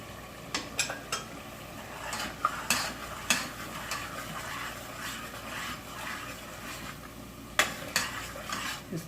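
Minced beef qeema with chilli, turmeric, salt, coriander and cumin fries in a pan, a soft sizzle under repeated spoon stirs and sharp clinks against the metal, with no talking.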